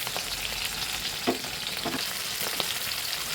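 Boal fish frying in hot oil gives a steady, dense sizzle throughout, with a few brief louder crackles and pops rising over the continuous hiss.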